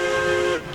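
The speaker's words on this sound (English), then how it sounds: "Whistle." Steam locomotive whistle in the Railroads Online train game, one short, loud, steady tonal blast that cuts off abruptly.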